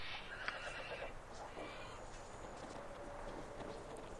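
Horse whinnies in the fantasy role-playing video game Icewind Dale, a faint, fairly distant neigh early on beneath a steady hiss of game ambience.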